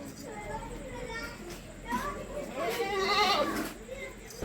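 Goats bleat a few times at moderate distance in an Indian village setting, their calls rising over a steady background murmur of children playing and talking.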